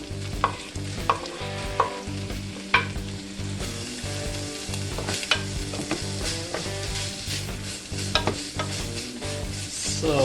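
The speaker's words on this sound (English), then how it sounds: "So while sauteing the ham, we can actually put the butter" Diced ham sautés in a pan with garlic and onion for Chinese fried rice, a steady close sizzle broken by repeated scraping and clanking stirs, loud and continuous, with no talk.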